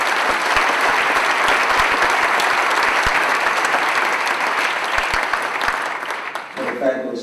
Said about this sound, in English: Let's hear it for Coach Chuck Batchelor